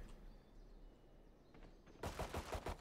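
Burst of rapid gunfire in the shooter game Valorant, landing a wallbang headshot: a dense run of sharp shots fills the last second after a quiet, murky lead-in.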